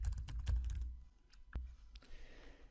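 Typing on a computer keyboard, a quick burst of clustered key clicks followed by a few scattered, sparser keystrokes, close and fairly quiet.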